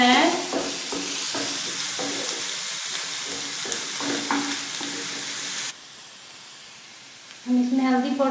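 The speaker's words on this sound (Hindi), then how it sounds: "इसमें प्याज डाल रहे हैं, इसको 2 मिनट तक फ्राई करेंगे जब तक ब्राउन नहीं हो जाता है" Onions frying in a pan, a strong steady sizzle broken by stirring scrapes, then a quiet gap and a sudden loud return of the hiss.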